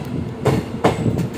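Rolling clatter of the Shalimar–Porbandar superfast express running on the single line between Rajkot and Jamnagar, a steady rumble of wheels on rails with periodic louder clacks at rail joints, heard close from on board.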